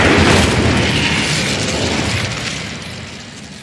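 An Incendio fire spell blast from Hogwarts Legacy erupts as a loud, close roaring burst that starts at full force and slowly fades over several seconds.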